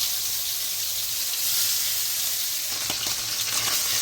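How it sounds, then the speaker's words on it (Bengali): Fish fries in a pan with a strong, steady sizzle and hiss, up close, with crackling pops and stirring sounds growing busier toward the end. "এখানে মাছটা দিয়ে দিলাম হালকা করে বাজিয়ে নেব"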